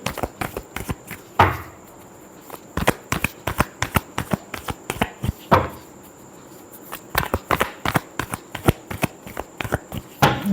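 Tarot cards are shuffled by hand close up, with rapid clusters of crisp riffling slaps and flicks broken by louder bridge-like sweeps, repeating in an uneven rhythm with no talk.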